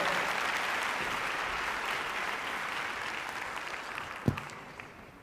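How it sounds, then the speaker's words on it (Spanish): Applause from an audience during a workshop session: steady, close clapping from a group that gradually thins and fades, broken by a single sharp thump near the end. "Venga el aplauso."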